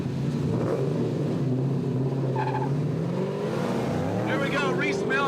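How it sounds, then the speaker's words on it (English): Rhys Millen's RMR Pontiac GTO and Ken Gushi's Toyo Tires Mustang in a Formula Drift semifinal: a steady, loud engine drone with revs climbing toward the end as tires start to squeal, while a commentator talks over it. "GTO squaring off with Ken Gushi and the Toyo Tires Mustang"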